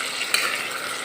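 Mutton pieces for an Assamese-style curry fry in a hot pan, giving a brief close sizzle with a scraping stir partway through.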